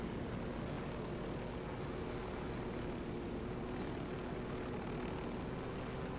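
Helicopter in the Ghost Recon Wildlands video game, heard as a steady, dense rotor and engine drone that stays loud and constant throughout, with no voices.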